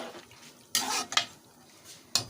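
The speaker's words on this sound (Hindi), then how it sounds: "इसके चम्मच के साथ अच्छे तरीके से हिला दें ताकि एक दफ़ा सारा कुछ मिक्स हो जाए" A spoon stirs a chicken mixture in a pan, making a few separate scraping and clinking strokes with quiet pauses between them and a final sharp knock, close and fairly loud, with no voices.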